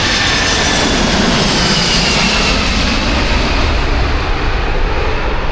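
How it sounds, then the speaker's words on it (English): A heavy DHL cargo jet from Milan thunders past at close range at Heathrow Airport, a dense, loud engine roar with a thin high whine that holds throughout. "that plane is really loud. That came from Milan, a DHL plane."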